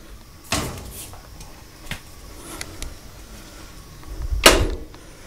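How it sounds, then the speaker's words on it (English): Doors of a 2024 Mainstays 3D electric stove heater with infrared quartz heater and fireplace-style flame swing shut, giving a couple of soft clicks and a sharp, fairly close latch knock near the end, with no talking. "Let me close the doors."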